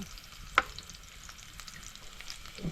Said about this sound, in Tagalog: papula-pulahin muna natin ang bawang para mabango-bango